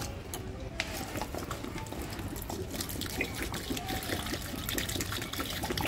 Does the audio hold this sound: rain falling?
no